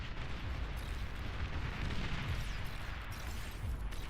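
Continuous rumbling artillery fire in a video game, a dense low roar of distant blasts blending into one steady barrage with no clear individual shots.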